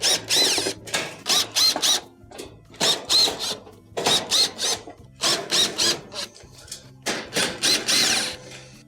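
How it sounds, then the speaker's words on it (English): Cordless power driver backing Phillips screws out of the back panel of a Samsung stove, in short repeated whirring bursts of about half a second each, close and loud, with brief pauses between screws. "We'll go around the perimeter, remove all the Phillips screws that hold it on."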